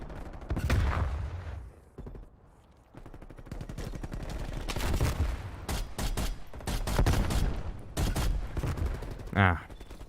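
Tactical rifle gunfire in a video game, loud rapid bursts of shots repeating through the clip, with a short lull midway.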